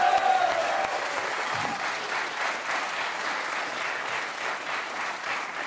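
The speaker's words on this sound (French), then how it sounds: "je vous demande d'applaudir très fort Monsieur Fabrice Eboué et Monsieur Ramzi Bedia" A TV talk-show studio audience applauds loudly for two comedian guests, a thick, continuous burst of clapping that stays strong and steady throughout, with a brief voice or two audible near the start.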